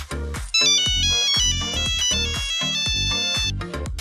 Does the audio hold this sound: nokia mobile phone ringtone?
yes